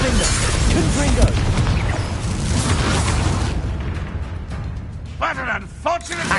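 Explosive spell blasts from Hogwarts Legacy combat, dense booming bursts and crackling impacts layered continuously with a character's shouted incantations and game music.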